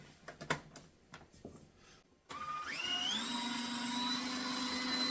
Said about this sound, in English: add to the food processor here, and we just want to pulse this until it becomes a fine sugar.